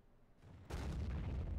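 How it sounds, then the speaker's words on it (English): A KV-2 tank in a video game fires a high explosive shell, one sudden loud boom that kicks in and rolls into a sustained heavy rumble. "Oh, did he just fire high explosive?"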